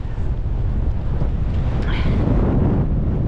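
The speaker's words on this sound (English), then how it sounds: "we're on the summit now, of the proper summit of Gowbarrow Fell, and it's very windy" Strong wind buffets the microphone on the summit of Gowbarrow Fell above Ullswater in the Lake District, a loud, continuous rumbling roar with gusty surges throughout.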